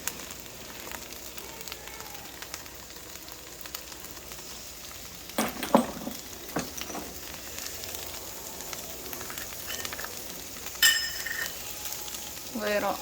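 Food fries quietly in a pan for a gluten-free, dairy-free dinner, a soft continuous sizzle with a few louder clinks and scrapes of stirring.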